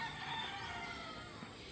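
Boston Black gamefowl rooster crowing in one sustained, fairly faint call against steady outdoor background noise, with no talk over it.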